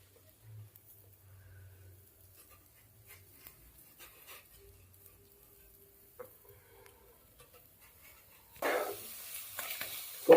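A filling of date-palm jaggery and grated coconut is stirred in a pan. It starts as faint, low scraping, then turns into a short burst of louder scraping and sizzling near the end.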